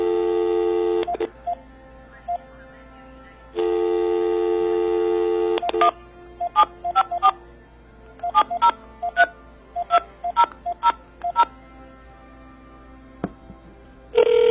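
Telephone touch-tone beeps dial a number in quick bursts, preceded by long steady dial tones, clear and close with no speech.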